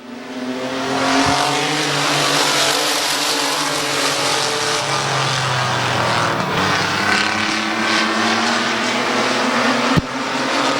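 Race cars at Midvale Speedway, a loud, continuous engine drone as the pack circles the track, with pitch shifts as cars pass and a sharp bang near the end.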